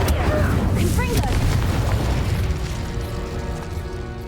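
The Confringo fire spell bursts in the video game Hogwarts Legacy: a loud, deep boom right at the start that rumbles and slowly fades away.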